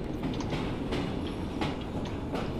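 A train rolls along in Assassin's Creed Syndicate with steady rumbling and rhythmic clickety-clack from the wheels, continuous and moderately loud with no talk.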